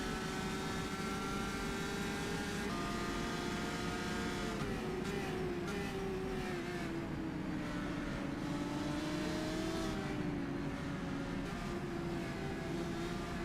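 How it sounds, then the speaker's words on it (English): Formula 3 open-wheel race car engines roaring in the rFactor 2 racing game at Silverstone, a continuous loud high-pitched drone with shifting pitch as cars accelerate, brake and pass together, with no voices. "Very quick racing indeed, and fast lap times from these Formula 3 cars."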